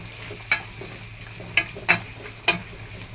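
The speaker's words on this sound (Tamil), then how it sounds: "இதை நல்லா வதக்கிக்கலாம்." Masala with curd and mint sautéed in a pan while vegetable rice is being made: a soft sizzle runs throughout, with several sharp spatula scrapes and taps against the pan spaced unevenly. No talking.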